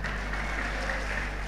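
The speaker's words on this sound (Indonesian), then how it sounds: "Kenapa tepuk tangan?" An audience at a religious lecture claps steadily in a dense, continuous round of applause over a low hum.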